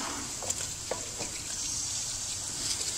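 Half a kilo of chicken hits a pan of garlic-ginger masala for palak chicken, giving a steady close sizzle with a few soft scrapes and clicks of stirring, no voices.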